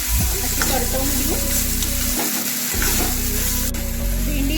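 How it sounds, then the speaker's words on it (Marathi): Okra sizzling as it is stir-fried in hot oil in a pan, a loud continuous frying hiss with a steady low hum and occasional stirring scrapes. "आता आपण भेंडी टाकून घेतलेली आहे, हिला आपल्याला थोडंसं परतवून घ्यायचं आहे"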